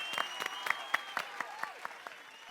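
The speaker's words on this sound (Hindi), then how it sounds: "लेकिन पहले आप लोग जरा सोढ़ी जी के लिए तालियां बजाएंगे।" Audience clapping for Sodhi at a lively gathering, a short burst of claps with distinct hand-slap peaks rising and falling over a couple of seconds, close and fairly loud with faint crowd murmur.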